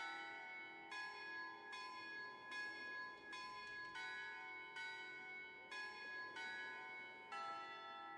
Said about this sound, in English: I was just listening to the bell